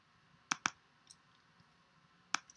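A few quiet keystrokes on a computer keyboard: a quick pair of clicks, a fainter tap, then one more click after a pause, over a soft steady room hiss.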